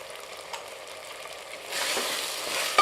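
Tomatoes with salt frying in a pan for Ambur chicken biryani, a steady soft sizzle that swells louder near the end, with no voices.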